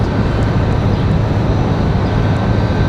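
Aircraft engines roar steadily at Raleigh-Durham International Airport, a loud continuous broadband rumble with no breaks.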